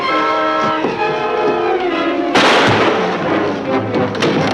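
A gunshot booms from a Superman TV episode, a sharp loud blast cutting over a sustained musical score with a rolling rumble trailing after it.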